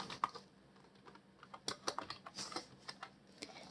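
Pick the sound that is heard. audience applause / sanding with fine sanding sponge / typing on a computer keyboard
typing on a computer keyboard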